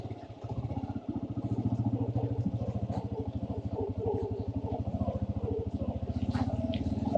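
Motorcycle engine pulsing steadily as the bike labours up a muddy slope while leaving Kalash Valley, a loud close chugging with a dense rhythmic beat, mixed with clatter and some faint talk.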